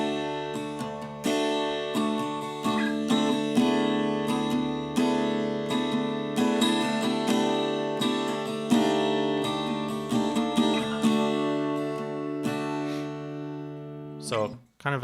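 Strummed guitar chords from the chorus of a song ring out in a steady, repeating progression, sustained and fairly loud, with no voices, ending in a brief scrape at the close.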